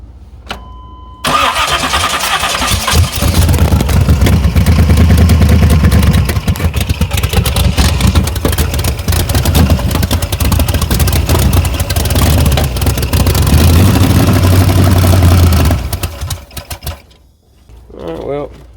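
A 383 Chevy Blazer V8 with MSD ignition cranks, catches and runs loud and rough for about fourteen seconds, then dies away, with a faint earlier sound before it starts.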